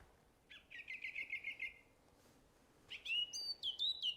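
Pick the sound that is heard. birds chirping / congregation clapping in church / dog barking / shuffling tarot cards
birds chirping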